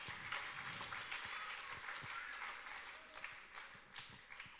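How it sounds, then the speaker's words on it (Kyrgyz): A concert audience in Osh applauds at an evening show: a dense, sustained wash of many hands clapping, steady and full, with occasional louder individual claps standing out. "Бир кол чабуулар менен сахнага чакырайын."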